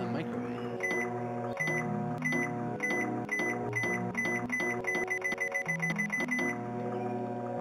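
A microwave oven hums inside the video game KinitoPET, its steady drone layered with repeated electronic beeps and chimes from the game's interface over constant background music.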